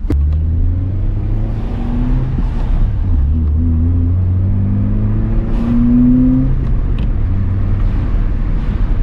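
A GD3 Honda Fit fitted with an HKS Hi-Power muffler cruises through a neighborhood, its steady low exhaust drone shifting pitch with gentle throttle changes, heard close from inside the car with no talking.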